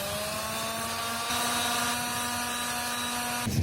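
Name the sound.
power sander sanding resin surface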